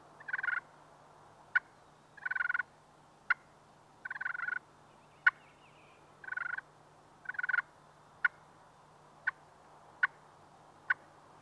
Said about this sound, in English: the purr is just dragging the striker across the slate against the grain